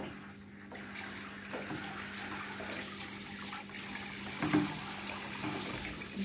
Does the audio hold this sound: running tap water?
yes